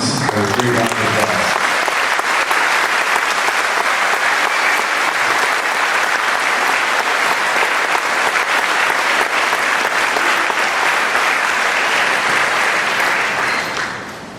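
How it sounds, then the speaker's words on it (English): An audience at a high school scholarship awards ceremony gives a long, loud, sustained round of applause for the students, dense steady clapping that tapers off only at the very end. "Let's give all of these students a great round of applause"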